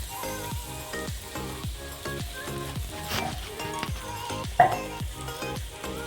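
Cumin paste with turmeric and chili powder fries in a little oil in a pan, giving a crackling sizzle broken by scraping stirring strokes, with music playing underneath.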